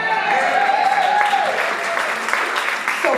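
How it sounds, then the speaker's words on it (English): An audience at a live poetry play claps steadily, a dense wash of applause filling the hall with a voice faintly underneath. "So please, I need you to start clapping."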